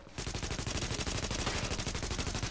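Rapid, evenly spaced gunfire from The Division video game, a dense burst of repeated shots that starts suddenly and keeps a steady rhythm, fairly quiet and heard alone.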